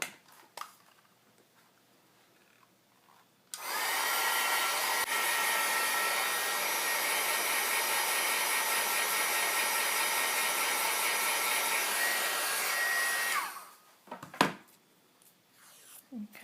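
A hair dryer blowing steadily for about ten seconds to dry ink on an index card, a loud close whooshing drone that starts and stops abruptly, with quiet handling sounds before and after.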